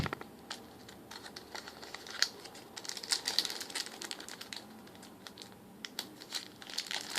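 Crinkly foil wrapper of a Pokémon TCG Flash Fire booster pack being torn open and handled up close, with dense crackling and rustling in irregular bursts and no talking.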